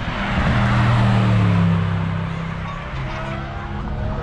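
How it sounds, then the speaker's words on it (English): A car with a straight-pipe exhaust at Supercarfest, Shelsley Walsh hill climb, gives a loud, raw, droning engine roar that rises and then settles, close by with crowd noise in the background. "This is my favourite car of the show. Straight pipe."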